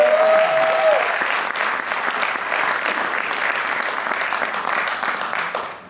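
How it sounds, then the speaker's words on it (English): Audience applause at a charity presentation and acknowledgements event, a steady loud round of clapping that carries on throughout and tapers at the end. "Big applause for Mr."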